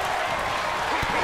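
Virtual arena crowd in the WWE 2K22 wrestling game applauding steadily through a cruiserweight championship match, a dense continuous wash of clapping and crowd noise throughout.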